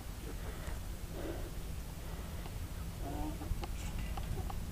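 Chickens cluck softly at a feeder in a few brief, scattered bursts over a steady low background rumble, fairly faint, with no talking.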